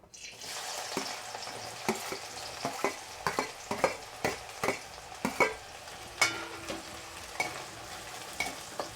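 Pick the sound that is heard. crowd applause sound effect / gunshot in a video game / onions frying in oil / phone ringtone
onions frying in oil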